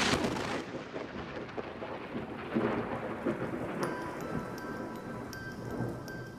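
A thunderstorm with steady rain, heavy rumbling thunder and a continuous wash of rainfall holding at a fairly even level throughout, with no voices.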